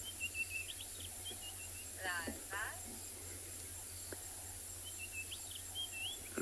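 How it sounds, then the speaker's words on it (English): Crickets trill steadily at dusk while birds chirp and call intermittently, an outdoor evening ambience at Tswalu in South Africa, with a brief voice-like sound in the middle. "the crickets are becoming a little bit louder"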